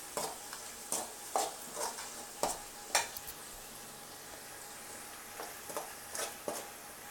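Onions sautéing in a pan for crab gravy, a soft steady sizzle punctuated by a series of sharp scraping stirs at uneven intervals, quiet and close with no talking.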